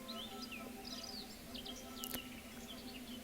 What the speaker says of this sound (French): Entendez-vous des oiseaux?